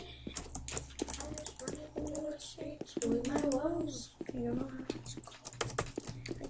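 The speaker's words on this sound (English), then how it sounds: "you guys can probably hear her keys" Rapid, uneven clicking of computer keyboard keys runs throughout, close and crisp, while voices talk over the tapping in the middle.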